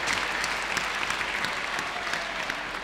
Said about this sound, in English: A little mini applause from the English woman.